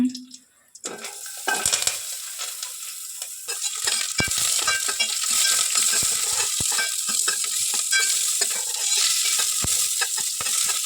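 Onion fries in a mustard-seed tempering for raw mango gojju, a steady sizzle that swells after a quiet start. Scraping stirs and metal pan clinks repeat throughout, fairly close, with no talking.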